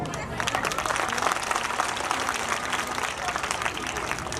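Audience clapping during a Hindi devotional or poetic recitation about fathers and sons, a sustained patter of many hands at moderate level, with some voices mixed in.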